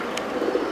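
A pair of fancy pigeons, Andalusian and German Modern birds with young chicks, gives one short, soft, low coo close by.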